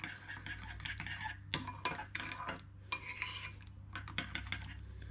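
Yeast and sugar being briefly stirred into warm milk in a bowl for a soft braided brioche, giving a run of soft scraping swirls and light clinks of a utensil against the bowl, close and fairly quiet.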